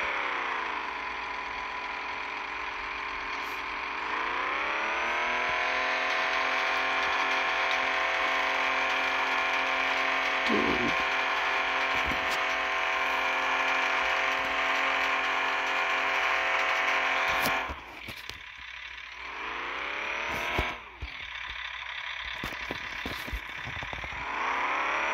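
A black truck engine in the Offroad Outlaws game, mudding: a loud, continuous whirring engine note that climbs as the revs rise, holds steady, then drops and surges back twice toward the end.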